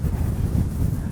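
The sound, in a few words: wind blowing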